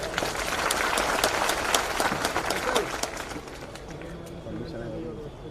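A crowd at a political rally in Madhya Pradesh breaks into loud, dense applause with sharp claps for a few seconds, then eases off as a voice speaks over the fading clapping.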